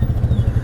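A Polaris Sportsman 570 ATV engine runs on a city road, a close, loud, even rumble with a quick pulsing beat for a brief moment.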